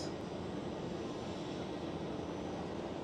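A jet taxiing at Amsterdam Schiphol airport gives a steady, broadband engine rumble and rush that holds at an even level the whole time, with no voices.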